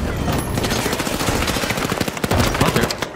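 Rapid gunfire crackles in a hectic round of the video game The Finals, a dense, loud burst of repeated shots lasting several seconds with no voices over it.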